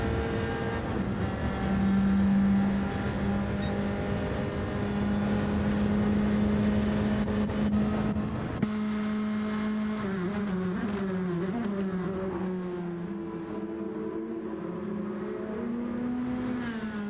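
Race car engines in a drift race drone and rev steadily and loudly throughout, the pitch wavering and climbing in long sweeps as the cars accelerate, with no talk.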